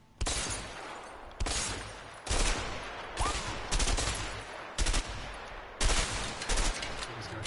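Repeated bursts of video game gunfire from A Way Out, loud and close, firing in short volleys with brief gaps between them and no talk over it.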